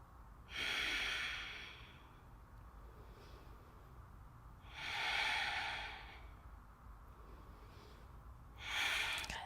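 Deep, slow breaths during a vinyasa yoga flow, three long airy inhales and exhales spaced several seconds apart, close and quiet with no talking.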